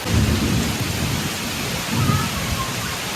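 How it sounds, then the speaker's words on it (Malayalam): Steady rain hisses throughout in a Kerala village, with low rumbles of thunder swelling near the start and again around the two-second mark. "ഞാൻ മഴ ആസ്വദിച്ചിരിക്കുന്നു"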